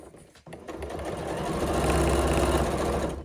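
A sewing machine runs steadily as it stitches piping into a dressmaking seam, starting after a brief pause and holding a loud, close, continuous motor hum with a rapid needle rhythm.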